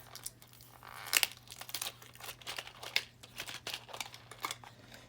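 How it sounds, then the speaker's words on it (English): Tape being peeled off the back of a toy closet package, with crinkly tearing and plastic rustles in short irregular bursts, close and fairly quiet over a faint steady hum. "So we got one little piece of tape to take out."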